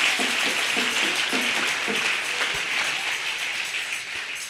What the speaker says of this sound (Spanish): Denle fuerte aplauso al Rey